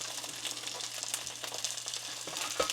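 Steady, close sizzling of salmon searing in a hot frying pan, a dense hiss with occasional pops, heard alone without talk.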